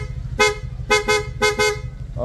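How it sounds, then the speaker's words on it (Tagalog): Short bursts of a loud, bright aftermarket car-style horn fitted to a Honda Click scooter, two pairs of blasts close by over a steady engine idle. "pinalitan na pala natin ng PIA horn, auto style horn"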